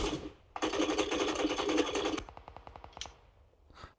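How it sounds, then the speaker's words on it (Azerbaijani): Rapid automatic gunfire in PUBG Lite, shots aimed at a wall, a dense burst for about two seconds, then slower separate shots tapering off, close and loud. "Amma divarı güllələyirəm"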